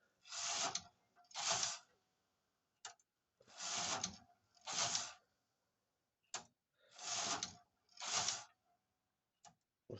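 Knitting machine carriage sliding back and forth during partial knitting, a series of loud close swooshing passes in pairs, separated by short clicks and quiet gaps.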